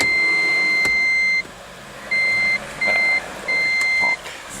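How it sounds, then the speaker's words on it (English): A Toyota Prius T4 hybrid's seatbelt warning chime beeps in long steady tones, sounding in repeated bursts with short pauses between, over a low idling hum. "It's beeping because I've got no safety belt on."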